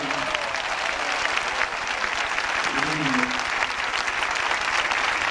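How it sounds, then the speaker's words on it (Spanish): A large crowd at a 1991 evangelistic rally in Zulia, Venezuela, applauds continuously in a dense, steady roar of clapping, with a voice briefly audible partway through. "¿Cuánto dan un aplauso por esta multitud de almas que siguen pasando?"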